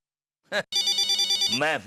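A telephone rings indoors in a sitcom household, one short ring followed by a sustained electronic trill lasting about a second, with a brief voice before and after it.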